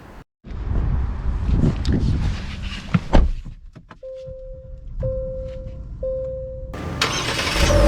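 A 2023 Genesis G80 3.5T twin-turbo sedan comes to life with a brief cranking burst that settles into a quiet idle, followed by several steady electronic chimes inside the cabin.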